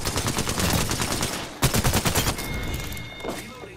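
Alternator submachine gun firing in Apex Legends gameplay, loud, rapid automatic bursts with a short break, a second burst, then a quieter tail of shots and game sounds.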